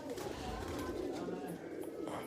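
Teddy pigeons coo softly and continuously in a faint, murmuring backdrop, close but low in level, with no talk.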